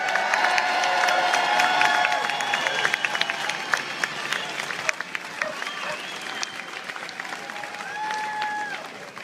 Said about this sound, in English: give a big round of applause for Peter